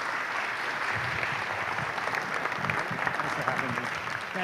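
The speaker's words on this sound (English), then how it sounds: "Let's give a big round of applause for Leslie Dach." Audience applause at a business talk, a steady, fairly soft round of clapping from a room of people lasting several seconds.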